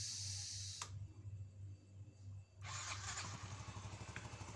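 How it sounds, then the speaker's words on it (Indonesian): A Yamaha Mio M3 scooter engine, fuel line reconnected and wiring fault repaired, goes from a steady idle through a short drop and back to a close, even running hum. "motornya sudah nyala kembali ya, sudah normal."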